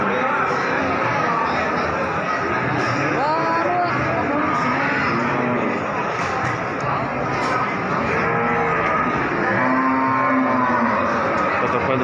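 Pegon cattle at the Wirosari livestock market in Grobogan, several drawn-out moos rising out of constant crowd chatter and market bustle, with people talking nearby throughout.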